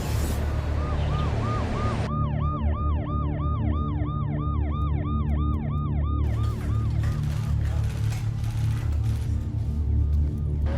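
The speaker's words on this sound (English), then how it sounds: "where ambulances have been coming every few minutes" Ambulance sirens wail outside a prominent hospital in Delhi during the Covid-19 second wave, a rising-and-falling two-tone siren repeating steadily and loudly over continuous street and traffic noise.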